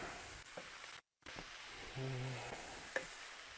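Vegetable chow mein noodles and veggies stirred in a hot pan, a steady close sizzle with scraping and a few light utensil clinks, briefly cutting out near the start.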